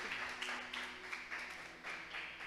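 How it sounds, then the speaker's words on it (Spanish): Congregation clapping together in a church service, steady broadband applause in pulsing waves at moderate distance, no voices over it. "Vamos a darle un aplauso al Señor por este mensaje."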